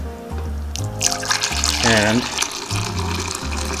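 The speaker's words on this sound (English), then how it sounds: "I'm pouring the water" Water poured into an Instant Pot's inner pot, a steady splashing trickle running under a person's talking.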